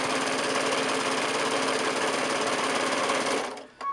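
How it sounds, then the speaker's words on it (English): Sewing machine stitching 10-inch quilt squares for a half square triangle chevron quilt, running in a steady, loud, continuous whir for over three seconds before stopping abruptly near the end. "My presser foot comes up, my needle goes down"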